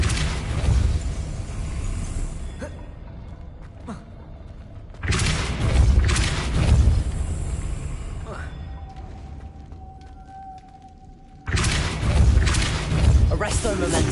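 A Depulso force spell is cast in the video game Hogwarts Legacy. Deep booming bursts hit around the midpoint and again near the end, with a thumping, rumbling tail over softer game ambience.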